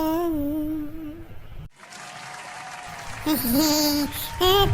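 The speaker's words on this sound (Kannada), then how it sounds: "ಚಪ್ಪಾಳೆ ಚಿಳ್ಳೆ ಎಲ್ಲ ಹಾಕ್ತಾ ಇದ್ದೀರ" A singing voice gives way to a burst of audience applause with shrill whistles at a Ganesha pandal stage show, the clapping and whistling swelling loud and dense toward the end.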